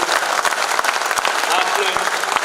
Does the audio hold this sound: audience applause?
yes